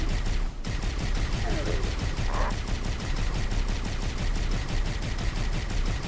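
In Halo: Combat Evolved, a Flood combatant fires a rocket launcher amid dense, continuous gunfire, the rapid automatic shots and blasts loud and close throughout, with a sharp burst near the start.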